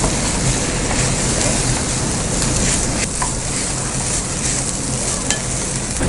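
Egg bhurji with pepper frying in a pan on a low flame, a dense continuous sizzle broken by scraping stirring sounds, close and fairly loud with no talking.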